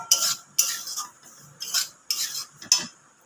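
Semolina roasting in a pan for a semolina rasgulla dessert, stirred with a utensil that scrapes and clinks against the metal in five or six distinct strokes, each with a bright scratch that fades, close and alone with no voices.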